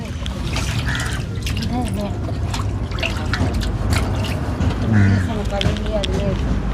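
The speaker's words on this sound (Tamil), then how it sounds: "நல்லா மீன் கழுவி எடுத்துட்டாங்களா" Fish being washed in water at a seaside fish curry stall in Dhanushkodi, Rameswaram: sloshing, dripping and trickling splashes under near-constant conversation.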